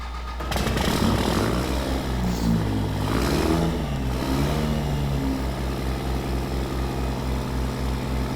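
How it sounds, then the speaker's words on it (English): A squatted truck in Farming Simulator 22 cranks and fires up, then settles into a loud, steady engine drone with a rumbling idle that rises and falls in pitch before holding constant. "I know when I start this truck up, it's going to be hard for you guys to hear me"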